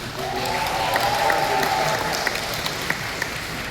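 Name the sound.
audience applause for a presenter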